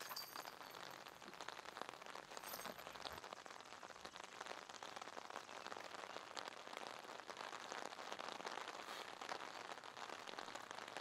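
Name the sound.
heavy rain pouring on a golf course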